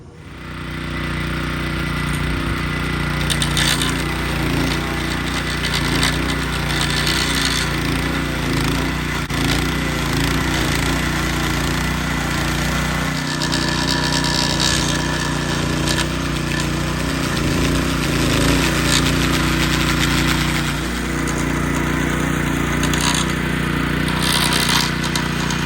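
A Trucut edger powered by a Honda GX120 engine runs with a replaced carburetor, a loud steady small-engine drone close by with a few rattling bumps as it rolls.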